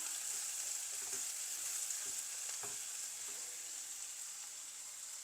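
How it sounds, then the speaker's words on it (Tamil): Bitter gourd and onions fry in a little oil in a pan, giving a close, steady sizzle with a few soft stirring knocks and no one talking. "நான் பாவக்காவை ஃப்ரை பண்ணி வெங்காயத்தையும் ஃப்ரை பண்ணி செய்கிறேன்"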